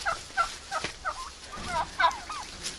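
Domestic turkeys grazing on a village plot in late autumn gobble repeatedly nearby, bursts of warbling, bubbling calls overlapping one another with brief pauses between, against quiet outdoor background.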